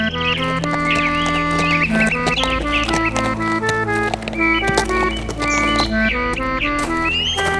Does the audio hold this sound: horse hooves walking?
yes